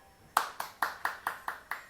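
Seven sharp, evenly spaced hand claps ring out close by in a quick steady rhythm, a slow sarcastic-style applause from one person in a quiet room.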